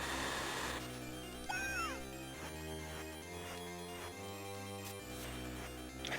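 Cartoonish meowing from the cat item in a Castlevania game, two rising-falling cat cries over a steady background of looping game music and tones.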